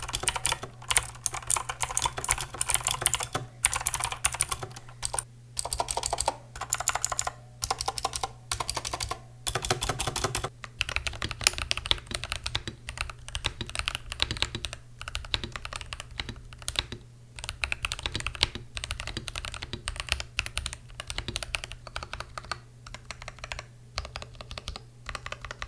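Steady typing on a mechanical keyboard, close and clear, with bursts of clacky keystrokes separated by short pauses and no voices.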